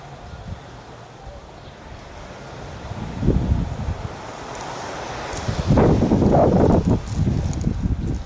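Seaside wind and waves on a provincial fishing shore, with steady wind buffeting the microphone and surging wash swelling louder in bursts.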